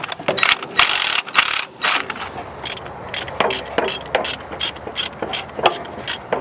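A ratchet wrench clicks in quick irregular bursts while loosening a bolt on the engine of an abandoned 1946 International truck, close and fairly loud, with brief pauses and a voice at times.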